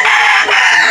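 A loud, close rooster crow, sustained and bright, from a gamefowl farm in Batangas, filling the brief moment without any other sound.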